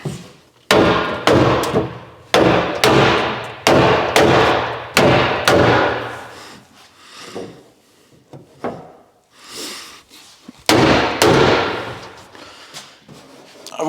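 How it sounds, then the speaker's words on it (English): Loud, sharp metallic blows land in quick bursts of several hits, pausing between rounds, as the body of an abandoned Mitsubishi Lancer Evolution VIII is hammered close by, with a 2x4 in use. "let's hammer."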